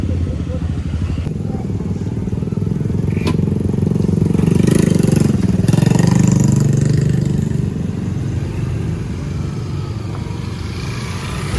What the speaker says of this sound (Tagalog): sobrang daming motor dito